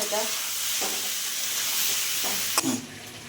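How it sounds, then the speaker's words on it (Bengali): Ground spices frying hard in a pan for a Bengali lentil fritter dish, with a steady loud sizzle and a few scraping stirs of the spoon, alone without talk. "মশলা দিয়ে বেশ কিছুক্ষণ আমি কষে নেবো বন্ধুরা"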